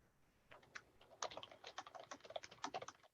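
Quiet typing on a computer keyboard, with a few scattered keystrokes that quicken into a steady patter of close, soft clicks in an otherwise silent room.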